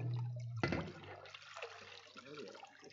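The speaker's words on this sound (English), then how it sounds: "Pour the water in." Water poured into a baptismal font during a church service, a brief splash and gush followed by a continuous trickle, with quiet voices in the background.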